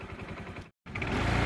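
An Activa scooter engine runs with a close, steady buzzing hum, briefly cut off by a short gap before resuming and continuing alone.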